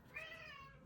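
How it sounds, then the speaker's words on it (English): A single cat meows softly, a short drawn-out mew heard faintly in a quiet room. "Yes, that's my cat, Jack."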